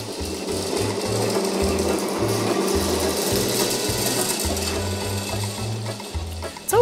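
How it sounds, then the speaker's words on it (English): Fort Collins trolley running along its overhead trolley wire on a wide parkway-like avenue: a steady, close mechanical whir with a rhythmic low thumping pulse under broadband hiss, continuous throughout and without talk. "I love the sound of a trolley sliding along a trolley wire."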